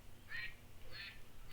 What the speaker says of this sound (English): Gotta have the Arkansas ducks sending us out.